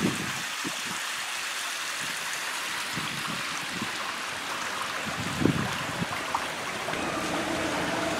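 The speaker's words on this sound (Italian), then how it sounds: "con l'acqua che a cascata si riversa scendendo dalla via Canova." Leaking water cascades down via Canova in Alcamo, a broad, steady rushing wash like a stream running along the street, with a few louder splashes and knocks standing out midway.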